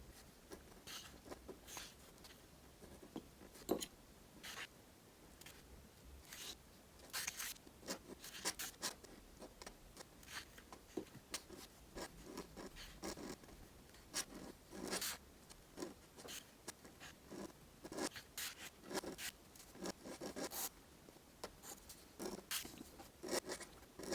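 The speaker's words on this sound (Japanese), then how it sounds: "ペン入れしていきます。" A pen inks a hand-drawn illustration of a crying boy in close-up, giving quiet scratchy strokes in irregular bursts that repeat steadily throughout, with no talk.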